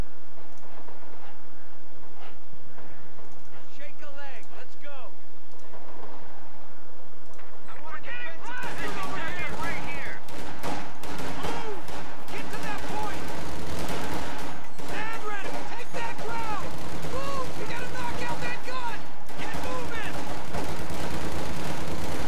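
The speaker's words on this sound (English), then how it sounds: "Fighting position machine gun is in place." Machine gun fire and battle noise from Company of Heroes 2, a World War II strategy game, dense overlapping bursts and explosions after a quieter opening, with someone talking over it.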